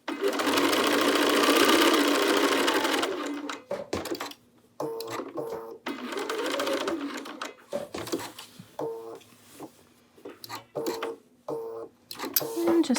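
A sewing machine runs fast in a loud burst, then stops and starts in short runs with clicks and a soft voice between, stitching back over a seam.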